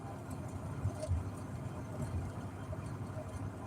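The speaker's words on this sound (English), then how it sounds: "I've got a 4x4 truck now." Low, steady engine rumble from a 4x4 truck idling close by, a constant drone with faint irregular knocks, no talking.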